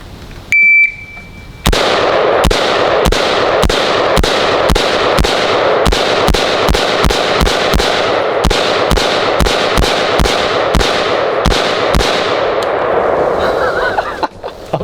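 AR-15 rifle fire at an outdoor shooting range: a long run of about twenty loud, sharp gunshots in a steady, fairly rapid rhythm, preceded by a brief electronic beep from a shot timer.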